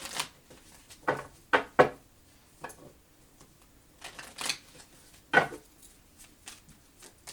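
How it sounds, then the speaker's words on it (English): Several quick, crisp riffling bursts of tarot cards being shuffled, spaced irregularly with quiet gaps between them. "Just a couple more shuffles, please."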